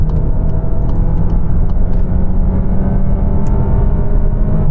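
A 2025 Volkswagen Tiguan with a 1.5 petrol engine accelerates flat out on a dual carriageway from around 40 mph, with a loud, steady engine drone and road rumble that builds toward a strained top-end pitch.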